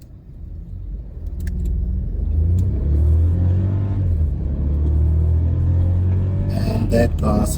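A VW Polo TSI pulls hard in first gear in manual mode, its engine a loud close rising drone from inside the cabin that swells steadily, then eases off as clicks and rattles follow.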